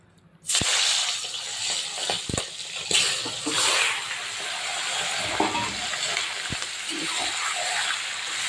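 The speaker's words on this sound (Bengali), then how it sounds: "এবার আমি দিয়ে দেবো লবণ হলুদ মেখে রাখা মাংস তেলের উপরে" Chicken pieces coated in salt and turmeric drop into hot oil and sizzle loudly, a steady crackling fry with occasional sharper pops and stirring scrapes, close up.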